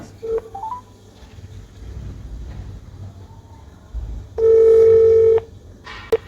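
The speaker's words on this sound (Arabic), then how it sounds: "نحن هنرن عليه دلوقتي وهتشوفوا هذا التليفون" A phone keypad sounds short dialing beeps, then a steady ringback tone rings loud for about a second before stopping, with a faint murmur of room noise throughout.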